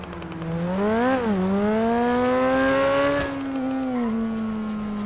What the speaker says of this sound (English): Got a little bit of a backfire.